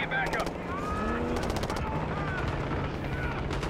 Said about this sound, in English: got gunfire ahead